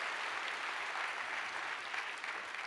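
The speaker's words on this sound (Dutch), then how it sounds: "Groot applaus." A crowd at a Dutch school awards ceremony breaks into dense, steady applause that holds at an even level for a couple of seconds, with no voices over it.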